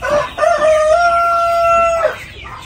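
One loud, close chicken call rings out on a poultry farm housing ready-to-lay hens: a drawn-out crowing cry of about two seconds that ends abruptly, with faint farm ambience behind it.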